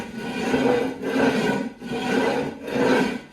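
A 1929 Ford Model A rat rod engine gasket is rubbed flat against a concrete garage floor, like sharpening on a whetstone. About four steady back-and-forth gritty rasping strokes come close and loud, with no talking.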